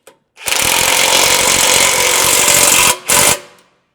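Power tool snugging the front bolts of a lower skid plate on a Jeep JL Wrangler or JT Gladiator, running loud and steady for about two and a half seconds, then cutting out and giving one brief final burst.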